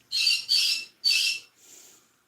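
Three loud, harsh pet bird squawks in quick succession, then a softer fourth call trailing off; close by, with no talking.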